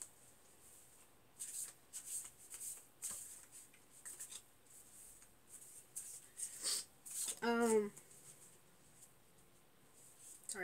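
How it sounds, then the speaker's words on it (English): Oversized playing cards are shuffled by hand, soft riffling and flicks in bursts with a quick riffle near the end, while a person talks quietly. "I'm very careful when I'm shuffling, especially, like, I forget that they're this massive for cards."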